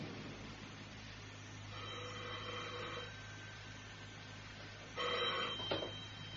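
A telephone bell rings twice in an old-time radio mystery drama, a short burst of ringing followed by a second, louder ring, over a quiet, hissy background with no one speaking.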